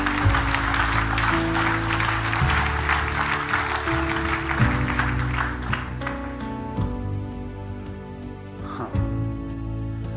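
A church congregation applauds in loud, dense clapping over sustained organ or keyboard chords, the applause thinning out toward the end while the music continues.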